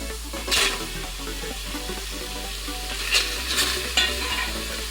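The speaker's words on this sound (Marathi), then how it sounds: "कुकरमध्ये मटण टाकून घेते" Goat mutton sizzles in the hot oil of a home pressure cooker, a steady crackle with a few louder bursts as the meat is stirred, close and alone without talk.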